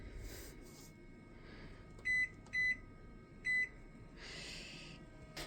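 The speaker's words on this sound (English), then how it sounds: "set a timer here for 20 minutes." Three short electronic beeps from a kitchen timer on a homestead, evenly spaced and close, set over a quiet room hum with faint rustling.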